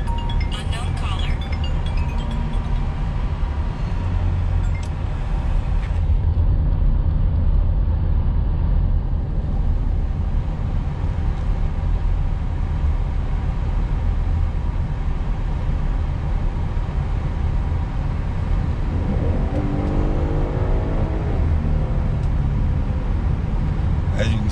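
Inside a Chevrolet Traverse Premier AWD on the move, a constant low engine and road drone fills the cabin, with a brief rising whine late on as the transmission shifts.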